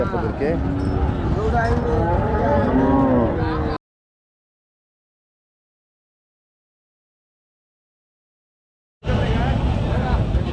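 Cattle moo loudly and repeatedly at a livestock market at Panchbibi haat, with a busy crowd babbling behind them. The sound cuts out in the middle and returns near the end.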